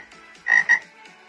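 A frog croaks loudly twice in quick succession, close and clear over a quiet background, in a children's picture-book reading featuring a green frog.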